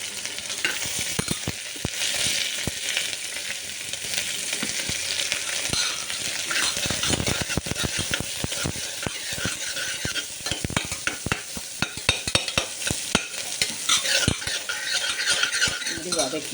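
Onions with salt sautéing in a pan for neichoru, a loud continuous sizzle layered with busy, rapid spoon scrapes and clatter against the pan, close and steady with no talking.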